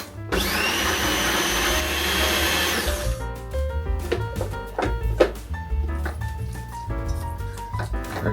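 Food processor whirring as it blends fresh garden pesto, a loud steady motor drone for about three seconds, then continuing with uneven rattling and churning as the blade spins the mixture.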